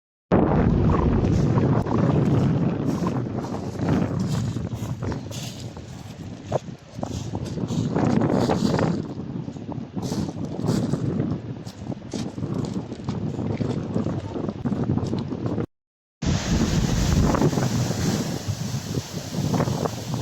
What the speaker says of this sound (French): C'est impressionnant le vent, la climatisation.